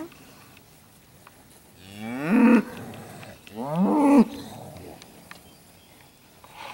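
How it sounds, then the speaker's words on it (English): A cow with an injured foot, her face caked in mud, lets out two long, drawn-out moos close by, each swelling to a loud peak, over quiet outdoor farm background. "there's the cow with the hurt foot"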